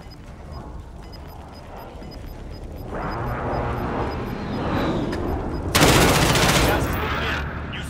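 Gunfire in the video game Call of Duty: Warzone, with rattling bursts that build to a loud, dense volley near the end, mixed with game noise and background voices.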